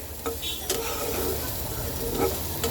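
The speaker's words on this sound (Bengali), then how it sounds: "পেঁয়াজটা ভাজা হোক" Onions frying in a pan for a pointed gourd dopeyaja, a faint continuous sizzle punctuated by a few sharp clicks of a spatula against the pan.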